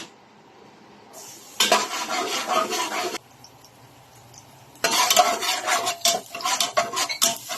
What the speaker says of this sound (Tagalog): Gigisa ko na rin mga idol. Ang unahin ko yung gigisa. Yung bawang mga idol.